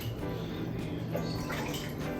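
Kitchen tap water runs steadily into two cans while they are rinsed out during cooking, a continuous close rushing and splashing with no pauses and no voices.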